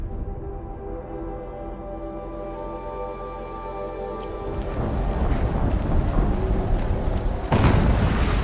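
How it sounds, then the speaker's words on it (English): A large explosion in the action game Horizon Zero Dawn breaks out after a steady droning hum, with a broad, loud rumble that keeps rolling and then swells with a second heavy blast near the end. "Explosion."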